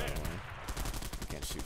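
Pistol gunfire in the online shooter Bullet Run, a quick series of close, loud sharp shots in rapid succession amid dense game noise, with some speech underneath.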